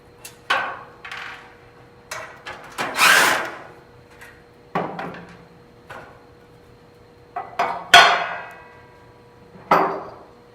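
Screws are taken off the cover of a Heat Wagon S405 direct-fired heater: a series of separate, loud metallic clanks and tool rattles, with brief whirring bursts spaced a second or two apart.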